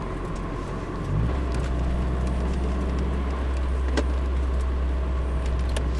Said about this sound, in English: good old turbo motor there helping us through here